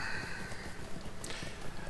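Hooves clip-clop steadily beneath a bed of game music and ambience as a horse is ridden in Lord of the Rings Online, the rhythmic footfalls fairly quiet and blended with the background.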